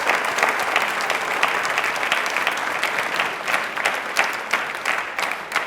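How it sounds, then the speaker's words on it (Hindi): A studio audience on a televised quiz show bursts into loud, steady applause for a correct answer, dense clapping sustained throughout with no voices over it. "ताली बजा दी एक बार जोरदार, बिल्कुल सही जवाब है इनका।"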